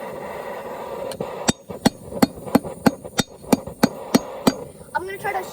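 A hammer forges and flattens a hot steel knife blank on an anvil, striking a dozen or so sharp, ringing blows at a steady, even rhythm close up, with a brief scraping sound at the end.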